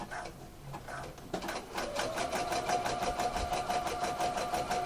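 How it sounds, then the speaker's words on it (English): Domestic sewing machine running a zigzag stitch close to the edge of an elastic waistband, a steady close mechanical whir with rapid rhythmic needle chatter that starts softly and settles into a continuous even drone. "it's just a case of doing a zigzag stitch quite close to the edge"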